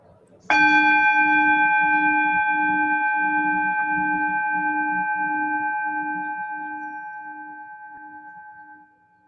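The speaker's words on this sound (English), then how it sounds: "If you have a gong at home or a bell, something like that, it's nice to have that to start and end a meditation." A meditation bell is struck once and rings out clear and loud, with a pulsing tone that slowly fades over about nine seconds before it is cut off.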